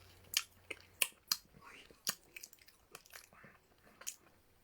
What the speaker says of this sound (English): Don't make noise and chew.